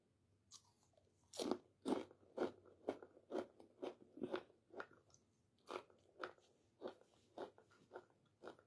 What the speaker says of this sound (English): It's always the crunch for me on them.